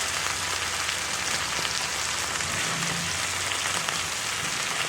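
Okra frying in a small cast iron skillet, a steady dense crackling sizzle like rain on a surface, close and even throughout with no talk.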